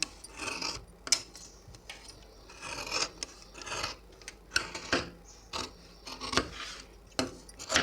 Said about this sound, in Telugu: ఇప్పుడు మనం కటింగ్ చేసేసుకుందాం.